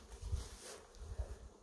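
Honeybees buzz in a low, fluctuating drone as a hive frame and inner cover are shaken during winter hive preparation, close and moderately quiet.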